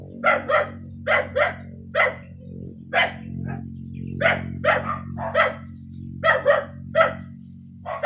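A dog barks repeatedly in quick pairs and short bursts, loud and near, over a steady low background hum.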